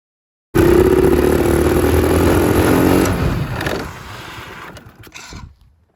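A $50 mini ATV engine running as it is ridden, a loud buzzing motor that starts abruptly, holds a steady raspy drone, then fades and sputters as it moves off and cuts out near the end.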